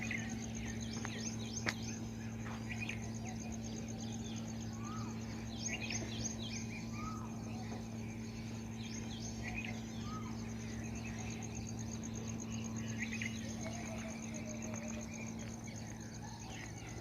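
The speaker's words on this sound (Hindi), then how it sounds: "परिंदों की चहचहाहट" Birds chirp and call repeatedly at a fish farm in the morning, small bursts scattered over a steady insect drone and faint hum, moderately distant, with no talking.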